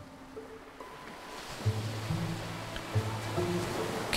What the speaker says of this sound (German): Ich höre Brandung.